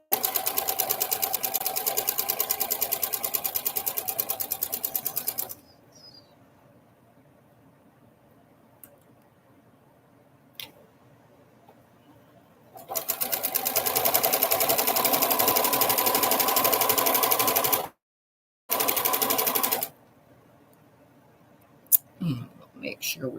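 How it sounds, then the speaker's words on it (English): Sewing machine chain piecing quilt patches, close and steady whirring in two long runs separated by a quiet pause, with a short final burst and a few faint clicks and handling noises in between. "I'm just going to chain piece these through real quick."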